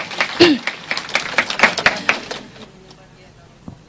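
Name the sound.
congregation clapping hands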